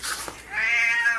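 A house cat gives one drawn-out meow close by, rising then sustained and fairly loud, with a brief softer sound just before it. Nobody speaks.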